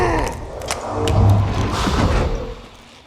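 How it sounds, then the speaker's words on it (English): Banshee orbs in the game Dark and Darker appear and fire: a few sharp thuds and whooshing bursts over a dense, rumbling game soundscape, fairly loud and close, with no talking. "There is also a very distinct noise when the orbs appear and as they shoot."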